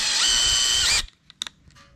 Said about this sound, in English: I'm just going to grab another drill bit that's a little bigger.